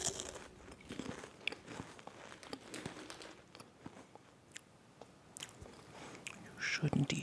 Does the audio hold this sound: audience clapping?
no